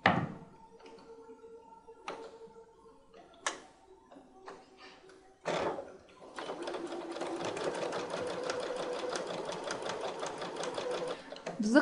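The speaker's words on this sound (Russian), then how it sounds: "Булавки не вынимаем и начинаем отстрачивать по лицу, по намеченной линии." A domestic sewing machine topstitches a trouser fly along a marked line on the right side of the fabric, with short bursts and pauses at first, then a steady, close, continuous run of rapid stitching.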